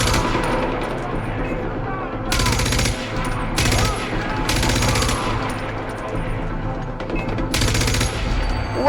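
Rapid automatic gunfire from a mounted machine gun in the video game Far Cry 4, loud bursts of a second or so repeating over a busy battle soundscape.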